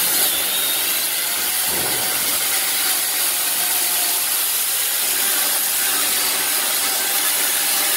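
A loud, steady chainsaw drone cutting through a tree's root ball runs throughout, a harsh buzzing with little variation, as if the saw is held in a long cut.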